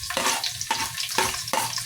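Onions tossed into a pan with sautéed garlic, a dense sizzle broken by four rhythmic stirring scrapes about half a second apart, close and steady, with no voice.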